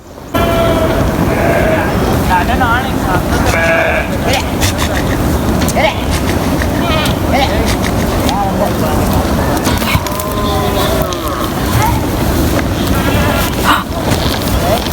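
Sheep bleat now and then in a mountain village, several calls scattered through steady wind noise and outdoor bustle, with people talking nearby.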